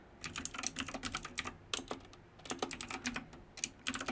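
Rapid typing on a computer keyboard while writing code, with close, crisp key clicks in uneven bursts and short pauses and no voices.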